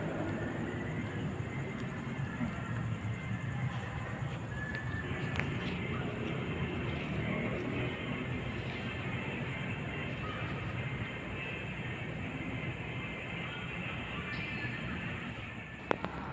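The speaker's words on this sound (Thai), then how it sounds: "ตอนนี้ ไม่มีคนเลย บรรยากาศหัวลำโพงโดยรอบ" Steady, even hum of the large, empty hall of Hua Lamphong railway station in Bangkok, Thailand, with faint distant clanks and no nearby voices, the noise level barely changing throughout.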